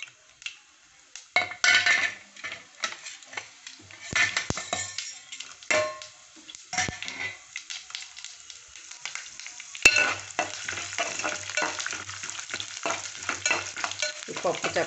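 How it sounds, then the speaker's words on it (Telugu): Tempering spices hit hot oil in a pan and burst into sharp, crackling sizzles that come in surges. Utensils clink against the pan now and then, and the frying stays loud and close. "పోపు దినుసులు వేసుకుందామండి"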